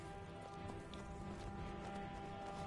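A stolen horse in a video game galloping, with quick rhythmic hoofbeats beneath a steady droning background, faint and low in level.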